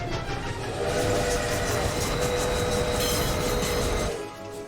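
A train runs loudly nearby, a dense rumbling clatter of wheels with a faint high tone riding above, holding steady for about four seconds before easing off.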